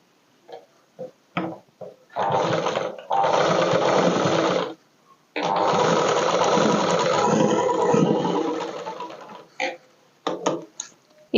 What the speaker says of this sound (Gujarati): ઉપર બીજા ભાગને આ રીતે ઉલટો મૂકી દેવાનું અને શોલ્ડરની સિલાઈ કરી દેવાની